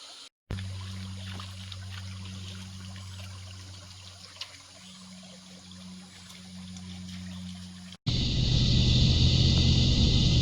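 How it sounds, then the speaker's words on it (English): A small creek in southeast Queensland bush trickling and burbling steadily nearby, a continuous gentle water wash with a low background hum, ending in a louder, rougher rush of flow near the end. "Man, it's nice down in this little creek."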